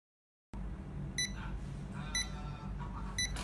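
Digital desk clock GH0712L sounding its alarm: short bursts of high electronic beeps repeating about once a second over a steady low background hum.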